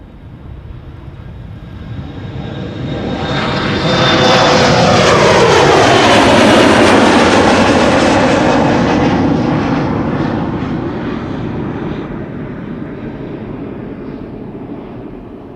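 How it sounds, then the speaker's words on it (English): A KLM Embraer 175 airliner at Schiphol Airport swells from a distant roar to a loud, close engine rush, then slowly fades as it passes, with no voices. "Next up, KLM Flight 1175 going to Stavanger, Embraer 175."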